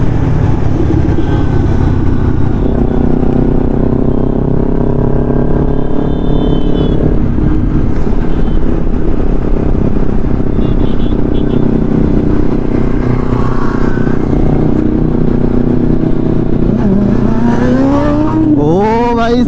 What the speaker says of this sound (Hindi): ये था स्ट्रीट बर्नर का बर्निंग टायर